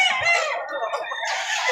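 Chickens and roosters at a market in Padre Garcia, Batangas, give a brief burst of loud, close clucking and squawking.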